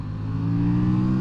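An Aprilia motorcycle engine in third gear through the mid-range, a loud steady drone with induction noise building slightly in pitch and volume over a short moment, close and alone.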